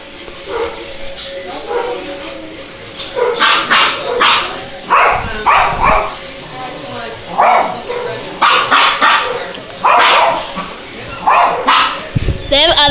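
Several dogs kept in another room bark in repeated short bursts, some yipping and whimpering, loud and close, while people talk between the barks.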